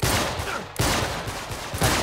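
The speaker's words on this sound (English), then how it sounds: "Okay, let's shoot them." Dense gunfire from the video game Uncharted 3: Drake's Deception: loud, rapid overlapping shots in a continuous barrage, with a brief lull near the middle before the volley resumes.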